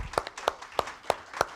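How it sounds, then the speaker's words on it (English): Five sharp, evenly spaced claps sound close and distinct in a short burst, a small round of applause for a guest at the end of a service. "I want to give a round of applause to our guest"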